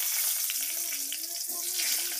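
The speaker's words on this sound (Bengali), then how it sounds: "এবার আমি আলুগুলো ভেজে নেব।" Potatoes fry in a pan with a steady, close sizzle and crackle of hot oil, alongside a faint scrape of stirring.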